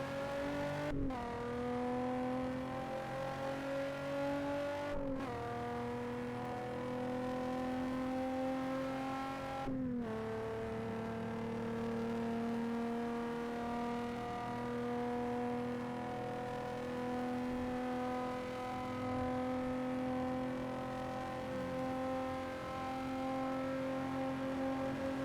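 A Toyota Camry in the Assetto Corsa racing game drones at a steady engine pitch, climbing gradually with sudden drops at each gear shift over a long continuous run.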